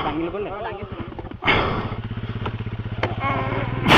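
A motorcycle's engine throbs on a steep hill road near the Morongial viewpoint in Assam. The close, pulsing engine note runs throughout, with people talking loudly over it.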